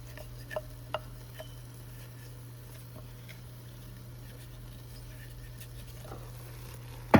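Churro dough being stirred in a pot, faint soft scraping and a few light clicks of the spoon over a steady low hum from the stove area, no talking.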